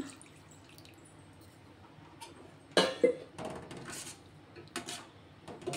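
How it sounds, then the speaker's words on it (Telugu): Water poured into a pot of tomato rasam on the stove: quiet background, then a few irregular splashing bursts of pouring, close and moderately loud, with no talking. "ఇదిగోండి నీళ్ళు అయితే వేసుకుంటున్నా."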